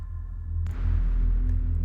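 A low, dark synth drone hums steadily, then shifts and thickens partway through, sustained with no voices.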